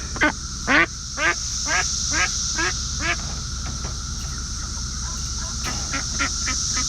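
Female ducks newly moved to a homestead pond give a rapid series of loud, close quacks, then pause before a few fainter quacks return over a steady outdoor background.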